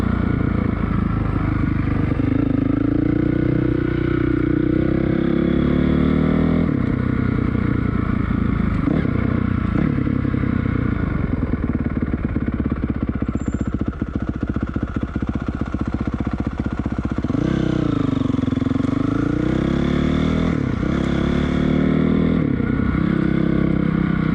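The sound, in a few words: 2006 Honda CRF450R motorcycle engine running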